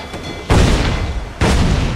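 Two heavy booms of ship cannon fire at sea in Assassin's Creed Black Flag, loud and close, each a deep blast with a long rumbling tail, roughly a second apart.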